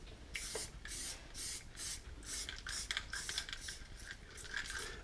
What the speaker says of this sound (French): et je viens maintenant pulvériser ma couleur